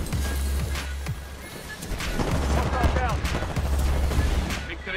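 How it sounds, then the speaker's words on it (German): Rapid bursts of gunfire crackle continuously over a busy, noisy Titanfall 2 game soundscape. "Ich höre die ganze Zeit Schüsse"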